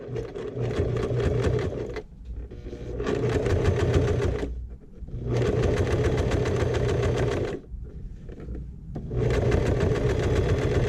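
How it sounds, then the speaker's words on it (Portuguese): Sewing machine stitching fabric for a small shoulder bag, a loud close mechanical whir running in bursts of about two seconds separated by short pauses. "Desço a agulha e vou costurando"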